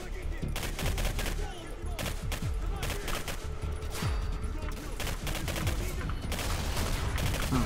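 Rapid bursts of gunfire from the PC shooter game Singularity crackle densely and loudly throughout, with someone talking over the shots.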